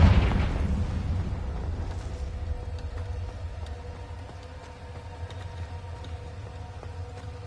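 The Confringo fire-blast spell explodes in Hogwarts Legacy with a loud, close boom at the start, then a long rumbling tail that slowly fades while small crackles and pops continue.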